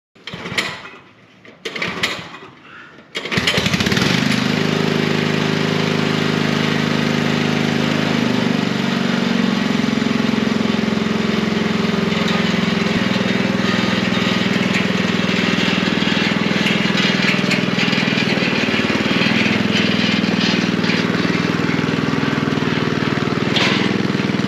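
A 45-year-old walk-behind tiller engine, tried out on snow, starts after a couple of sputtering pulls and then runs loud and steady at close range, with a droning, slightly uneven idle.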